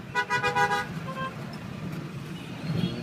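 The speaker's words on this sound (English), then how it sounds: "So this is your average taxi ride in Kathmandu." Car horns toot in quick repeated bursts amid the rumble of Kathmandu street traffic heard from inside a taxi, followed by steady road noise and a fainter engine swell at the end.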